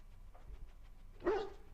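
A Mabari war dog in the video game Dragon Age Origins lets out a single short, fairly loud bark near the end, after a stretch of quiet ambient background.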